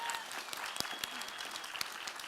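Audience applause for contestants at a fan-convention game show on stage, a dense crackle of many hands with a voice talking over it.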